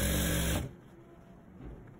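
A sewing machine stitches elastic band onto trousers, giving a brief loud mechanical whir that stops abruptly after about half a second, leaving quiet room noise.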